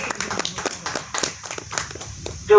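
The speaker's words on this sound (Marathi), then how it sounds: "ह्या गोष्टीवर टाळ्या झाल्याच पाहिजेत की" An audience at a lecture on Shri Basaveshwar claps, brief scattered hand claps rising into a louder patter, close and lively, with a speaker's voice just audible at the edge.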